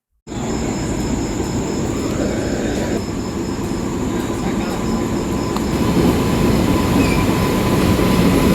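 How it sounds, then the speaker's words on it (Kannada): Chennai Central Express train rolling into a station, a loud, steady roar of wheels and carriages with a faint metallic squeal, continuous and close throughout with no break. "ಅಂತೂ ಇಂತೂ ನಮ್ಮ ಚೆನ್ನೈ ಸೆಂಟ್ರಲ್ ಎಕ್ಸ್ಪ್ರೆಸ್ ಟ್ರೈನ್ ಬಂತು."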